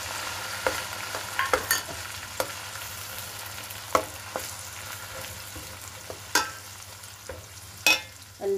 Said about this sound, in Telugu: పచ్చిమిర్చి వేసిన తర్వాత ఈ ఆయిల్లోకి అల్లం, వెల్లుల్లి, కొత్తిమీర, చెక్క, లవంగం కలుపుకున్న మసాలా